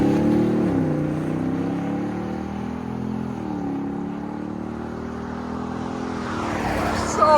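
A 2025 Ford F-250 Tremor with a 7.3L V8, X-pipe and Borla ProXS exhaust rumbles steadily nearby at a deep idle, then briefly swells louder near the end.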